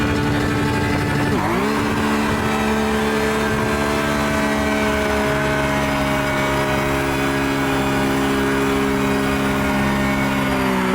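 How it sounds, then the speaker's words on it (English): A Porsche Cup 992 race car in the iRacing game at Imola revs through burnouts. A sharp rev dip early gives way to sustained, steady, high-pitched engine tones that hold loud throughout. "we're going to do some burnouts anyway."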